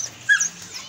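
A dog lets out a short, high whimper, one faint thin cry lasting well under a second against a quiet indoor background.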